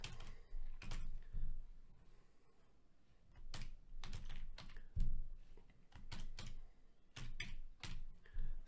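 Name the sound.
typing on computer keyboard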